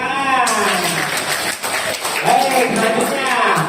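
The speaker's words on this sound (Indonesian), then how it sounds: "Ya, berikan tepuk tangan." A classroom of students applauding together in a lesson, dense sustained clapping throughout with voices mixed in.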